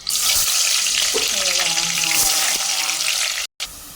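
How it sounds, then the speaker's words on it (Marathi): Chopped onion hitting hot oil in a home kitchen pan while cooking chicken tandoori biryani, a loud steady frying hiss that fills the clip, with a brief drop to near silence near the end. "इथे बघा मस्तपैकी तेल तापलेलं आहे गाईज आणि हा आपला कांदा कापून झालेला आहे मस्तपैकी आपण याच्यात हा कांदा सोडूया"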